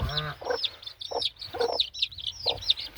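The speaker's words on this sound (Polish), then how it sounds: "tu mam dwie kurki, silki piękne" Silkie hens cluck and chirp in a backyard flock, a few close, soft clucks and short calls repeating in loose bursts with quiet gaps between them.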